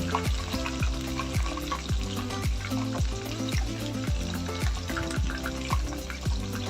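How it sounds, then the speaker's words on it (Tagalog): Continuous crackling sizzle of marinated dried bisugo fish (threadfin bream) frying in hot oil, close and steady, with light clinks and scraping throughout. "Ito na muna gawin natin, iprito natin."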